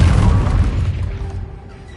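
A Confringo fire spell explodes in Hogwarts Legacy, a loud booming blast right at the start whose deep rumble rolls on and slowly fades over two seconds.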